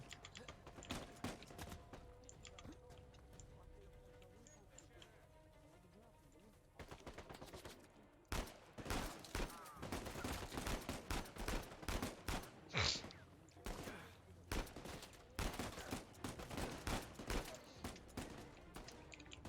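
Gunfire from the video game Uncharted 4: A Thief's End rattles in rapid bursts of sharp shots, loud and close, with quieter game sounds between volleys.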